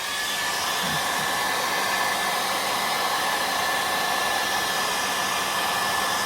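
A handheld heat tool blows hot air onto old stickers on a vintage Hot Wheels blister card, a loud, steady, close airy roar that holds unchanged throughout with no talking.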